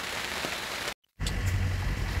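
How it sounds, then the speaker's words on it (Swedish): Heavy rain pours down in Greece around a moored sailing boat, a dense, loud, steady patter that drops out for a split second and then resumes even fuller. "Ösregnar det."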